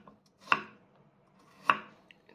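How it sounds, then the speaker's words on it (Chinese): A knife slices ginger into pieces for an onion, tomato, corn and pork rib soup, giving two crisp, close chops on a cutting board about a second apart, with quiet pauses and no talking. "将姜切成片"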